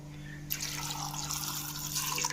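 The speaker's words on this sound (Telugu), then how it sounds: "నైట్ అంతా నానబెట్టిన కాబూలి శనగల నుంచి వాటర్ తీసేసి" After a quiet moment, soaking water suddenly pours and splashes steadily from overnight-soaked kabuli chickpeas into a sink or container nearby, fairly soft.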